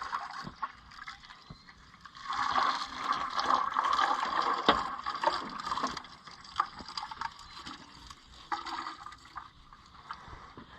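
Hot engine oil pours and splashes steadily into a bucket from an Oliver 1855 tractor, a thick gurgling stream with scattered clinks and faint background noise.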